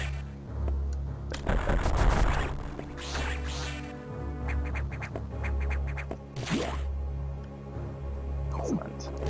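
Super missiles firing in Metroid Fusion on the Game Boy Advance: a few sharp, punchy blasts stand out over steady game music and electronic effects, each launch brief and loud.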